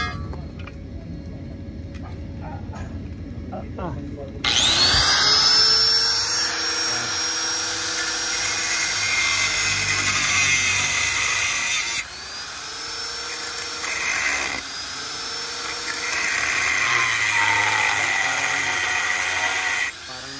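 A power tool, likely an angle grinder, cuts a steel angle bar with a loud, continuous high-pitched grinding whine. The whine starts abruptly after a quieter lead-in and runs for long stretches, with brief dips in pitch as the blade bites into the steel.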